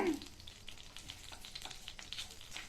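Cinnamon, a bay leaf and a slit green chili fry in hot butter and oil, giving a soft, continuous crackling sizzle with light spitting pops throughout.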